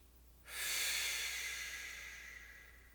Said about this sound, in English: Good, deep breathing, last 2.